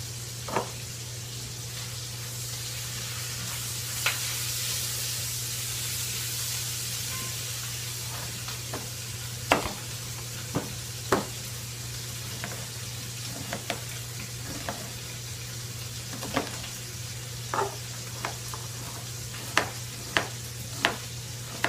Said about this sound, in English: as soon as the bacon is finished in the skillet